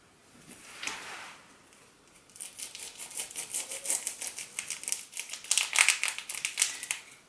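Packaged ground beef being cut open: a brief soft rustle, then a run of crisp, close crinkling and slicing of plastic wrap that grows denser and louder toward the end.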